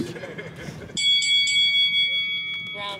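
A boxing bell opens a sparring round in a gym, ringing out loud and sustained with a bright metallic tone after a moment of background chatter, then slowly decaying with faint voices underneath.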